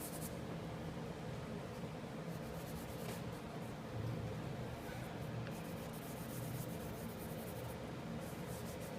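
Compressed charcoal rubs across paper in a steady, faint scratchy shading sound, continuous and close over a low room hiss.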